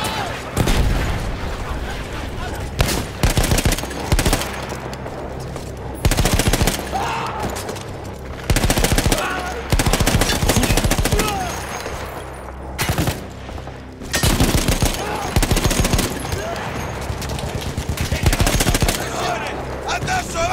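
Machine gun fire in the WWI shooter Battlefield 1, a captured emplaced gun firing loud repeated bursts with heavy booms and battle noise between them.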